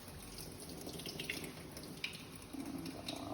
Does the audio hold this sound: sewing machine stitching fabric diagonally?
no